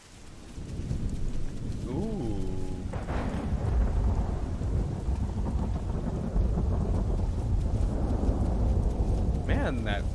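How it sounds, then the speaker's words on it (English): Heavy rain pours steadily while deep thunder rumbles and rolls in the video game The Isle, loud and close, with a few brief tonal sweeps and voice-like sounds mixed in. "those rain effects sound amazing"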